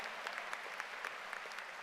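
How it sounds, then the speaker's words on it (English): Applause for the top 10 graduates at the Thomas Dale High School Class of 2025 graduation ceremony; a large crowd claps steadily from a distance, soft and diffuse, with scattered sharper claps. "Let's give our top 10 graduates another round of applause"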